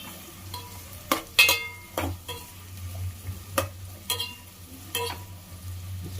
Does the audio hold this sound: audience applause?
no